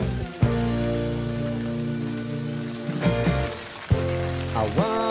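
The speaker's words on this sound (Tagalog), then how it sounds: "Kasalukuyan lang pumapatak ang ulan, papalakas na." Steady typhoon rain, growing heavier, patters on a surface nearby with a constant hiss, a few louder drips and knocks standing out along the way.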